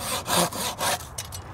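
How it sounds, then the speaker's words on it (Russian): Japanese Kataba Takagi or Zetsaw pull saw cutting through conifer wood, with several close, loud rasping strokes in a steady rhythm that ease off toward the end of the cut. "пилит легко, но все-таки чувствуется, что пила очень острая и производительная"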